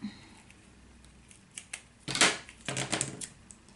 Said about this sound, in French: Je vais venir mettre un petit bout de mousse. Hop, que je vais découper.